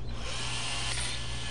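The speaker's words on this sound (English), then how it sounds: "Drill the first hole with the medium bit to mark the position in the second piece." A power drill whines steadily and loudly throughout, close up, with no pauses and no voices.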